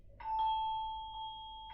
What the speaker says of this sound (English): There we go, there's the bell.